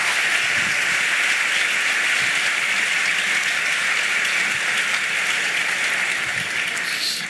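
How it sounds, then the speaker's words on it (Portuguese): Congregation applauding during a church service, a steady dense wash of clapping held at an even level from start to finish, fading slightly near the end. "Você pode aplaudir"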